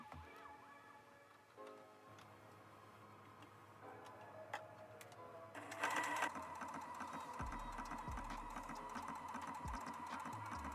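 A sewing machine stitches fitted cheetah-print gloves, running in steady bursts that pause and restart as the foot is lifted and the fabric turned, fairly close and continuous with no talking.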